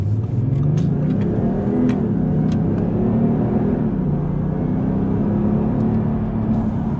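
2020 Audi S4 diesel accelerating on the road, a steady deep engine drone with rising rumble heard from inside the cabin, loud and continuous with no talking.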